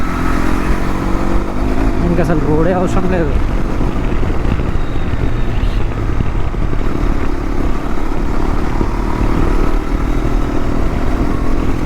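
Hero XPulse 210 motorcycle ridden with a pillion passenger, a continuous loud engine drone with strong wind rush, a voice speaking briefly over it early on.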